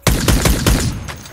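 Scourge gun firing in the video game Badlanders, a rapid burst of about five loud, close shots in quick succession, the last ones trailing off into a fading echo.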